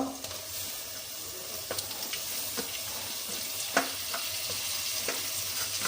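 Tomato frying in a pan for a vegetable sandwich, giving a steady, close sizzle with occasional clinks and stirring scrapes scattered throughout, with no voices over it.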